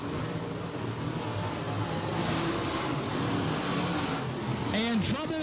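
Open modified race cars circling Bradford Speedway, a dense continuous roar of engines from the track, with a commentator's voice over it and a car's rising whine near the end.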